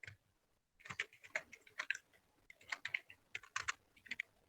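Typing on a new computer keyboard: bursts of quick, close clicking keystrokes in irregular clusters with short pauses between, alone and fairly quiet.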